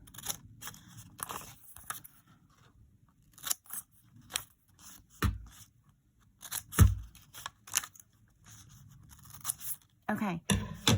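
Scissors snip through small paper pieces for a paper rose craft, a series of close, crisp cuts in uneven bursts separated by short pauses.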